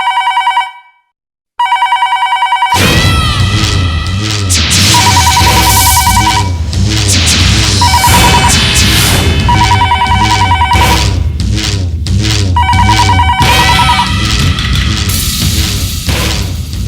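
A telephone rings in repeated loud bursts after a brief silence, with a low rhythmic backing underneath.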